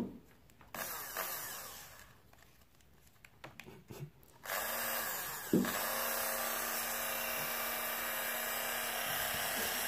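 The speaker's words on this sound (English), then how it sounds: "We need our power tool again." A small power drill whirs while boring a hole in a miniature, starting with faint handling clicks before the motor runs steadily and loudly close by for the second half.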